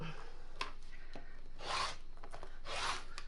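Rotary cutter slicing through quilting fabric along a ruler while trimming off selvage for a quilt carrier, heard as two soft, close rasping strokes with a faint click between them in a quiet room.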